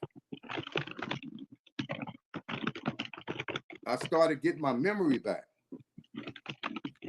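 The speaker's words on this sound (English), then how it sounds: "Rob, we're hearing you typing" Someone types on a computer keyboard, with clicks scattered under someone talking steadily and fairly close throughout.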